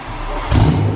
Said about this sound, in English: see what it sounds like, and then we're gonna pick up James from the airport